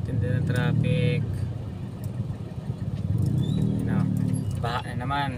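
Road traffic crawling through a flooded street near Philippine General Hospital in heavy rain, with a steady close rumble of car and motorcycle engines and tyres through water, plus occasional horn-like tones and voices over it.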